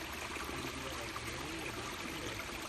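A small creek runs steadily past, its water trickling and burbling in an even, continuous wash at moderate level with no voices over it.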